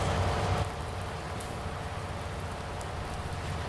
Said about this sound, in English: because it is raining